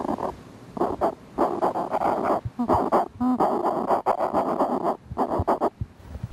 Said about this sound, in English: These are adult mutton birds in their burrow.